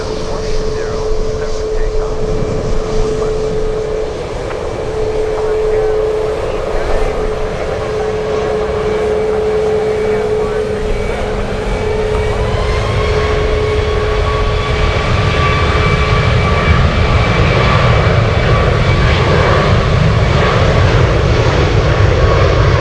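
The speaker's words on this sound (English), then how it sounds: "have another Alaska 737 taxiing on Yankee" An Alaska Airlines Boeing 737 taxis at Anchorage airport in gusty wind, a steady near jet-engine whine with tonal hums rising and falling over a constant low rumble, lasting throughout.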